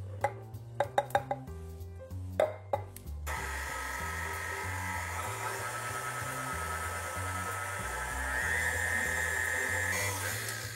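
Electric mixer whirring steadily as it blends pastry ingredients, after a few sharp knocks at the start, the motor drone running continuously and rising slightly toward the end, with no talking.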